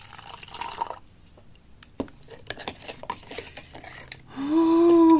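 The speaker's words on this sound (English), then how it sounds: "Now stirring, I'm going to add some water." Water is added to a baobab smoothie with a few drips and patters, then becomes a steady, close pour near the end.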